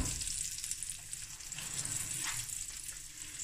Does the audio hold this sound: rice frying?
yes